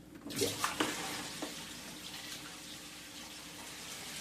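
Dirty water drains from an endoscope reprocessing sink with a rushing, gurgling wash that starts with a few sharp splashes and then settles into a steady flow.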